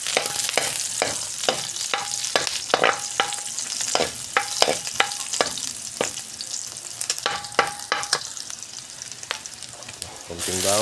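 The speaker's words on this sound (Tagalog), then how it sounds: "Ayan, dito natin igigisa guys." Garlic and onion sautéing in a pan for Filipino pancit bihon, steady loud sizzle broken by repeated sharp scrapes and clanks of a utensil stirring against the pan, no talking.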